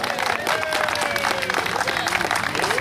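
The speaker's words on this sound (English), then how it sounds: "how about a round of applause for Steve Kelly with us today?" Applause fills a hall at a cartoon festival, a steady, dense clatter of many hands at moderate distance, with faint voices and a thin whistle or cheer threading through.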